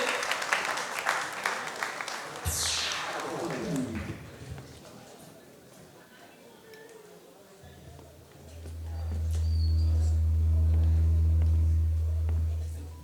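Applause at a Congolese independence anniversary event in Germany, welcoming the president of the AVC party: clapping over a voice at the start, fading under a sweeping sound, then a loud low steady hum takes over.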